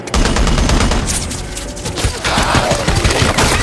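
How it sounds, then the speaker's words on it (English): Machine guns firing in a movie battle scene in a canyon, dense continuous bursts of loud rapid shots with booming impacts, filling the whole stretch. "The two machine guns roared like walls of fire, setting the entire canyon ablaze."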